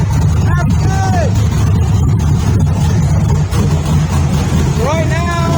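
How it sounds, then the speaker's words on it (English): A car engine idles steadily with a low, continuous rumble, with voices and scattered background noise over it. "You hear the car running."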